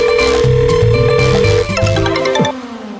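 A mobile phone ringtone for an incoming call plays loud and alone, a repeating electronic melody of steady tones that shifts pitch partway through and continues for about three seconds.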